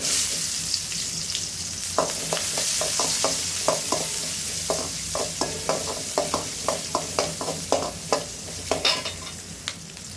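A large cut onion fries in hot oil for a thulapayaru and bottle gourd tamarind curry, a steady close sizzle broken by a regular run of sharp scraping stirs from a spoon against the pan.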